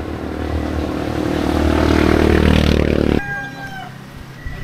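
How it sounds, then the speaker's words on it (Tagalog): A motorcycle passes along a rural road near a campsite in Real, Quezon, its engine noise swelling loudly for about three seconds before cutting off abruptly, leaving quieter background sounds and faint tones. "May motor ah."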